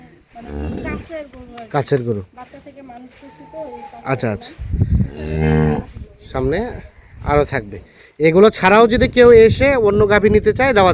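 Holstein Friesian dairy cows mooing on a farm, with long drawn-out moos recurring close by while people talk over and between them.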